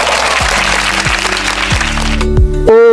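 Applause in a Yoruba learning video for kids, a short steady patter of hand clapping with a few sharp claps, ending on a brief tone.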